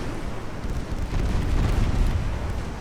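Torpedo hits exploding against warships in the naval battle game Ultimate Admiral: Dreadnoughts, heard as a heavy, sustained booming rumble that swells and fades over a few seconds, with no voices.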